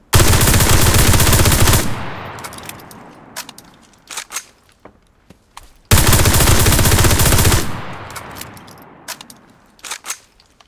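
An OVP M1918 submachine gun fires in the World War II video game Enlisted, with two loud sustained full-auto bursts of about two seconds each, each followed by clicking and rattling reload handling.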